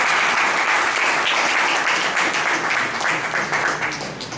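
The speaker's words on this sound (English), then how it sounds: "Please give a round of applause." Audience at a Toastmasters meeting gives a steady round of applause, a dense wash of clapping that holds throughout and slowly tapers toward the end.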